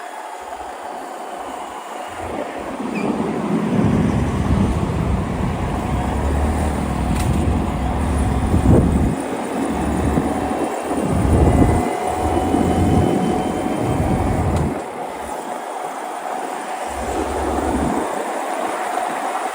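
Truck passing very close on a street in Phuket, Thailand, near Saphan Hin Park; a loud rumbling pass builds and lingers for several seconds amid other traffic, then drops away.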